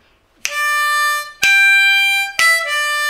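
A harmonica plays three sustained notes, draw and blow notes held clearly and close, each starting sharply with no voice.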